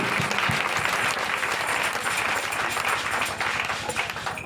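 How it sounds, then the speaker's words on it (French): A church congregation claps loudly together at a revival service, a dense continuous roar of applause with rhythmic hand claps throughout, close and sustained. "Acclame très puissamment Jésus"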